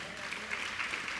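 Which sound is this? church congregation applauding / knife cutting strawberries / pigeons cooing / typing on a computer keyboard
church congregation applauding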